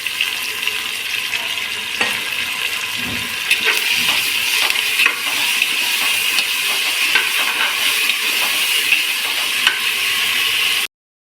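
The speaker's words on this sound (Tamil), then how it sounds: "இப்போ வந்து இது கூட வந்து நம்ம அரைச்சி வச்சுக்கிற இஞ்சி பூண்டு பேஸ்ட்டு வந்து சேர்த்திக்கலாம்" Ginger garlic paste sizzling with browned onions in a hot pan for chicken biryani, heard as a loud, steady hiss and crackle with a few stirring scrapes, stopping abruptly at the end.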